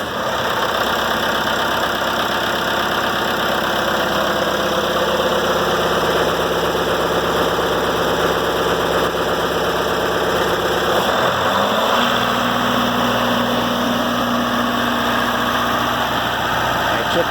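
Highpoint engine running steadily at idle, then a brief dip and shift around the middle as it settles into a higher, even hum at about 1800 RPM; loud, constant drone with no talk.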